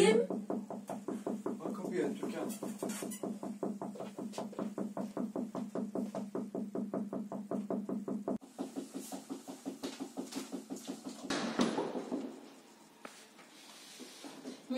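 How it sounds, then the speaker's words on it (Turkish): Knocking on a door in a 1980 Turkish short film: a long run of rapid, evenly spaced knocks, fairly close, continuing for several seconds before a brief shuffle and quieter pause. "Kapı çalıyor."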